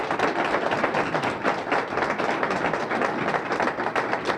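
A workshop audience applauds the mayor, Marty Walsh, in Roxbury, Boston. The clapping is dense and continuous at steady volume for the whole span, with no voice over it.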